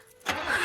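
A stalled van engine cranks as it tries to start in a film chase scene, a quiet pause then a sudden brief rough burst of starter and engine noise.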